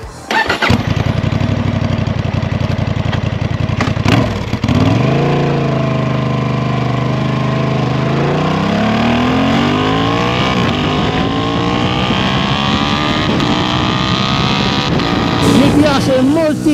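A 2023 Honda Hornet motorcycle accelerates hard up close, its engine note climbing repeatedly as the quickshifter snaps through quick successive gear changes, loud and continuous.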